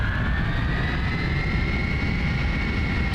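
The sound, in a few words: L-1011 airliner engines in Prepar3D v5 flight simulator video game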